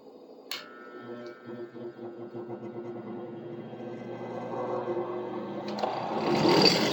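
A grinding wheel runs on a shaking workbench while a bushcraft knife blade is worked, giving a steady, close motor whine that swells into a louder, broader rasp in the final seconds.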